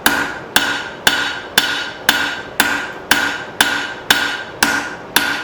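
Steady, evenly spaced hammer blows ring out on hot steel, about ten strikes drawing a long taper on a forged bird feeder hanger, each sharp metallic impact loud and close with a short decaying ring.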